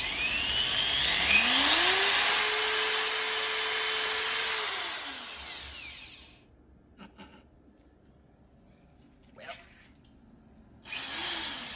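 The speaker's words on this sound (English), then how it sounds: "you can just take out the light and go ahead and drill it" A power drill whirs loudly while drilling a Suzuki Swift's boot for a light, its motor pitch rising, holding steady, then winding down; after a pause come faint clicks and a brief second spin-up.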